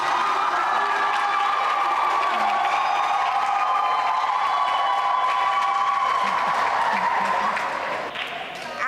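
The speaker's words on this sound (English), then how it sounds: "Let's give them a round of applause." A school quiz contest audience applauds and cheers in a continuous crowd roar with shouts and whoops, loud and sustained, and crowd voices mixed in.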